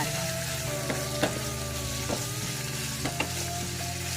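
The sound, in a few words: shrimp frying in a pan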